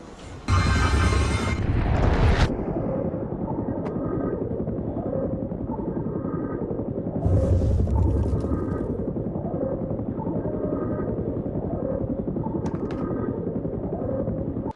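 A helicopter in the Shaun White Skateboarding video game thrums with a loud continuous rotor roar, with brief heavy bursts near the start and middle, and no talk.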